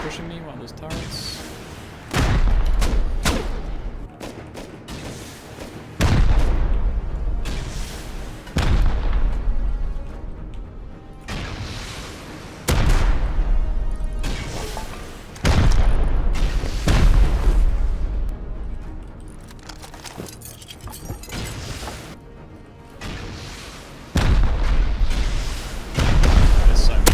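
Repeated heavy explosions blowing open a base in the survival game Rust, booming blasts every few seconds with gunfire crackling between them, loud and near, while a voice talks over the action.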